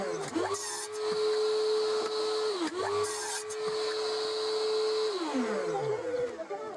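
Power saw cutting pieces of pallet wood against a stop block, a loud whining motor that bogs down through repeated cuts with short pauses as the wood is flipped between passes.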